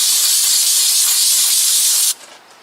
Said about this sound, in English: Spray some brake clean on the cloth.